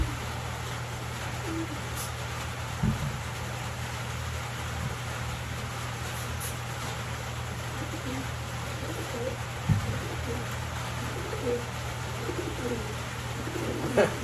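Pigeons softly cooing in a loft over a steady low mechanical hum, with a few faint sharper bird sounds scattered through and no talk.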